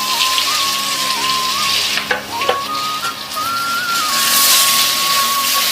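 Oil sizzles loudly and steadily as eggplant fries in a pan, with a constant crackle and a thin whistling tone running through.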